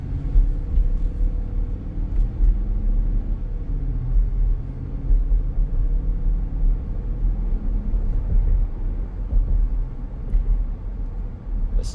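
A 2017 Infiniti QX80 SUV drives along, with a steady low interior road rumble and engine hum, constant and close throughout, no talking.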